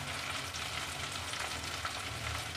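Tomato and Kashmiri red chili frying in a pan, a steady close sizzle with faint stirring scrapes running unbroken throughout, no voices.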